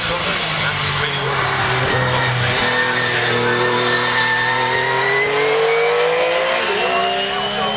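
A single-seater race car climbs the Harewood hillclimb with a loud, sustained engine howl that rises and shifts in pitch through the gears. A voice talks over it.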